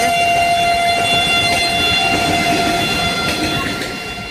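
A train rolls past near the Tamluk railway gate, a loud continuous rumble of wheels and wagons with a sustained horn or siren tone above it, fading slightly toward the end.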